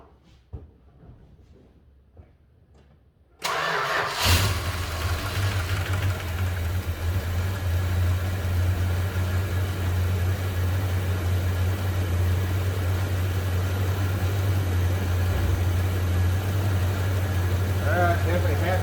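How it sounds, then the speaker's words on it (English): A 1971 Dodge Coronet police car engine with a freshly cleaned Carter four-barrel AFB carburetor cranks briefly and catches. It settles into a loud, steady, rumbling idle close by that runs on alone. "Starts up at idle."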